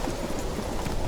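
Roach, the horse in The Witcher 3, galloping in a fast, steady clip-clop of hooves, close and continuous against a dense wash of ambient noise.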